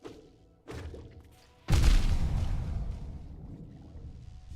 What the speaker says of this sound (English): Still, massive explosion,